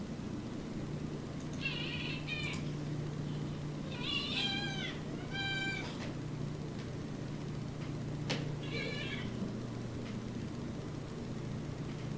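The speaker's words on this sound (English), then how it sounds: "Shut up, kitty." A cat meows several times in short, clear calls spread across a quiet room with a low steady hum underneath, with no talking.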